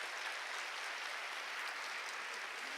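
A church congregation claps together during a sermon, a faint, even, continuous patter of many hands heard from some distance with no voices over it.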